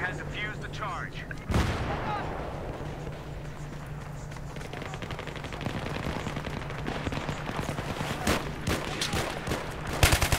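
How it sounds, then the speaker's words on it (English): A grenade explodes in Battlefield 3 with a loud, sharp blast early on, followed by scattered gunfire and crackling battle noise. "Toss a grenade"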